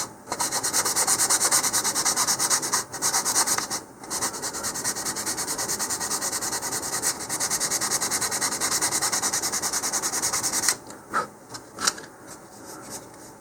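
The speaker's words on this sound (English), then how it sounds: "I'm just going to lightly sand that with a little bit of 220 grit sandpaper here" Steady, raspy rubbing of 220 grit sandpaper lightly sanding the wood of a model rocket, nearly continuous for about ten seconds with brief pauses, then a few short scrapes at the end.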